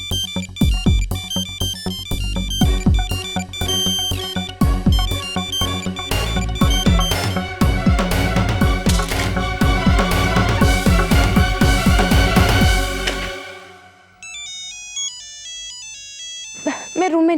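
A phone's melodic ringtone plays loudly and continuously, with rhythmic beats, then cuts off, leaving a quieter high tone and a brief rustle at the end.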